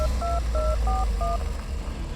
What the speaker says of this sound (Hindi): दूसरी ओर गाड़ी चलाते हुए अभिनव ने बलराज का नंबर भी डायल कर दिया।